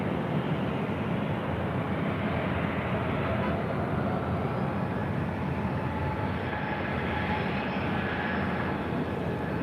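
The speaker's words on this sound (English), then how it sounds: "This is United Airlines 2095 coming in from Chicago O'Hare on a 757-300." United Airlines Boeing 757-300 arriving from Chicago O'Hare and landing at LAX, a steady broad jet roar holding at even loudness throughout, with faint talk in the background.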